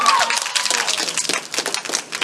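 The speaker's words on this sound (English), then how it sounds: "one more round of applause for Chelsea Wells herself" Short round of applause from an audience at a stage reading event, brisk, uneven clapping that swells and dips, with a voice briefly audible at the start.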